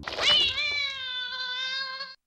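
A high, drawn-out meow with steady harmonics, close and clear, fading out after about two seconds; a pale ghost boy imitating a cat in the Ju-On horror films.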